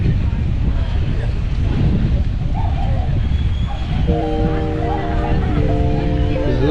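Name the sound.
wind blowing at the seaside baywalk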